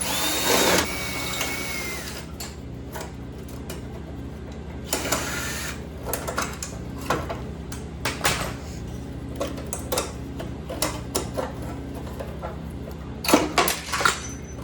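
Phillips head screws being backed out of the sealed beam headlight mounts on a 1989-1998 Chevrolet C1500 truck grille, a series of short close clicks and tool scrapes over a low steady shop hum.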